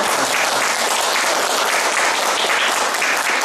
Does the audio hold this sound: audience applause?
yes